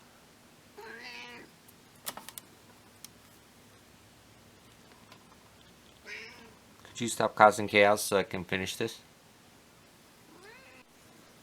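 A cat meows a few times, short and fairly close, between stretches of quiet, while a person speaks in the middle.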